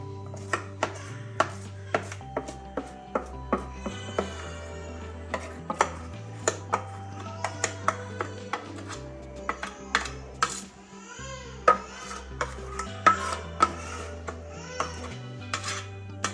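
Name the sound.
tapping cooker pan with cake batter to settle it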